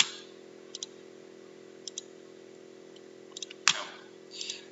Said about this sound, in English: If you just click on them,